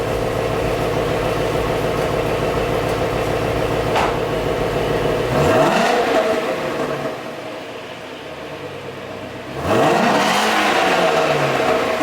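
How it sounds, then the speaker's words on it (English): A Shelby GT350 engine with its exhaust resonators deleted idles, then revs twice in quiet exhaust mode with rising, subdued exhaust notes. Each rev swells and falls back, recorded close by. "Here are some revs in quiet mode."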